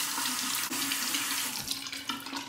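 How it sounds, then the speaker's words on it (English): Hot water runs steadily from a tap into a sink to warm a Simpsons T3 synthetic shaving brush, a close, continuous hiss and splash with a brief shift as the brush moves under the stream. "Let's warm it up under the hot water."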